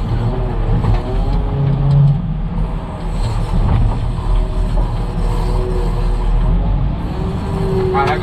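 Wheel loader with a weak transmission labouring while clearing trees and roots on land, a loud continuous diesel drone with low rumbling throughout, with people talking over it.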